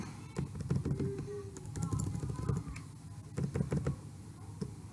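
Typing on a computer keyboard while entering text in Microsoft Word, with irregular close clicks and taps in uneven bursts over a soft room hum.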